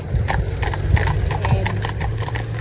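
A Friesian stallion driven in a pair with another horse, hooves clip-clopping in a steady, close rhythm of repeated sharp strikes over a constant low rumble of wheels and harness.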